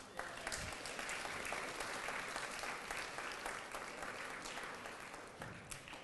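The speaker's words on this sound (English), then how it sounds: "Can we give her a round of applause?" A crowd gives a round of applause at a Muslim Capitol Day event in Michigan, even clapping that stays fairly quiet overall and tapers gently near the end.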